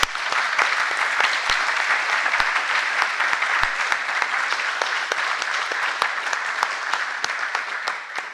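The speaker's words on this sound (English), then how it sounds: "I ask you a great round of applause to them." An audience at a conference breaks into sustained applause, dense rapid clapping from many hands that stays full and even throughout with no talk over it.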